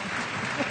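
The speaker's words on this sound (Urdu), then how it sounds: "سر بہت ساری تالیاں آغا صاحب کے لیے" Applause for a guest arriving on a studio set during a special broadcast about a Pakistan vs India T20 Asia Cup 2025 Super 4 cricket match. The clapping is brief and steady and sits close, with a murmur of voices mixed in.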